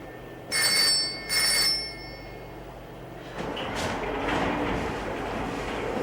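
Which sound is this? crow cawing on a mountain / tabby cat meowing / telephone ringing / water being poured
telephone ringing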